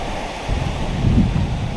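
Waves washing onto a Great Lakes beach, a steady, rough surf rush that swells slightly in the second half, mixed with wind buffeting the microphone, with no talking.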